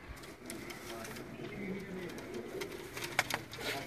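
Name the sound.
pigeons cooing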